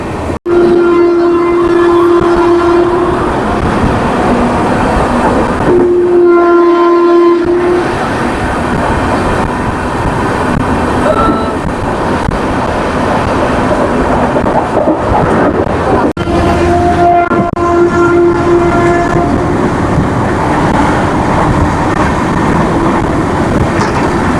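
The Rockfort superfast express rolls through Kilambakkam station without stopping, a loud continuous rumble of wheels and carriages with horn blasts sounding near the start, again around six seconds, and later on.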